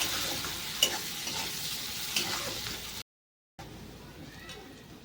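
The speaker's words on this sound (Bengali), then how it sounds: "পেঁয়াজের সাথে রসুনটাকে ভালো করে ভেজে নিতে হবে" Onions and whole garlic cloves frying in a pan give a steady close sizzle with a few light clinks, a brief silent gap, then a quieter sizzle resumes.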